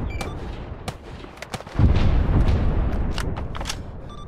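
Gunfire in Arma 3 during a Vietnam-era SOG Prairie Fire military simulation, with sharp separate shots giving way to a loud sustained roar of heavy firing and booms, close and dense.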